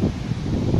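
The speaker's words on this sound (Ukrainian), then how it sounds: "Зараз я прямо напроти вітру." Outdoors, wind buffets the microphone in loud, continuous low rumbling gusts with no talking.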